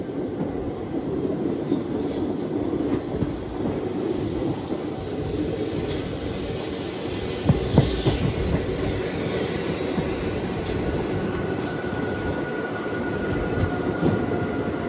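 An express train rolls past on the adjacent track, heard from inside a moving train. A steady rumble of wheels runs with squealing rails and clattering, and a brief louder burst comes midway.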